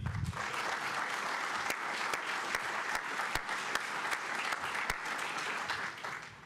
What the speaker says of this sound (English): How about a round of applause for them?